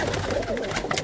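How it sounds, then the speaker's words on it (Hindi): Breeder pigeons cooing in a loft, soft low rolling coos close by, repeating over a quiet background. "उनके ब्रीडर कबूतर।"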